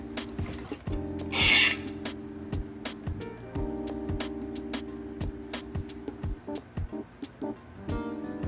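A hand file rasps across the soft steel head of a Cold Steel Trail Boss axe, with one loud stroke burst and repeated scraping under steady background noise.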